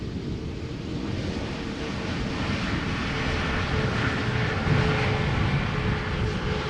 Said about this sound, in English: we are going to see the 747-8 from Cathay Pacific Cargo arriving from Paris Charles de Gaulle